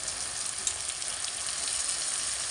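Chopped tomatoes hit hot oil in a frying pan for cluster beans curry, a loud, dense sizzle that holds steady with a brief spike as they land, close and continuous.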